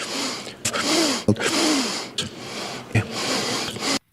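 A run of sharp nasal sniffs, several in quick succession, separated by brief breathy pauses, close to the listener.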